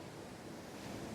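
Sea surf rolls in a steady, dense wash of noise, faint and distant, with no voices over it.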